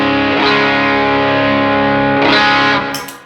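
Electric guitar played through a fuzz pedal, a thick, saturated distorted tone that swells twice with bright attacks, sustains loudly, then fades out at the end.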